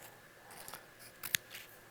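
Scissors snipping orange paper into a small triangle for a turkey craft, a few quiet crisp cuts close by with a sharper snip near the end, heard alone in a quiet room.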